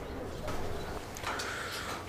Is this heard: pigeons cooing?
yes